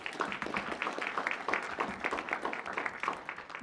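Applause at a regular board meeting, a steady patter of many hands clapping at moderate volume, with dense overlapping claps continuing throughout.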